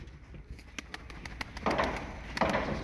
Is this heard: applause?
no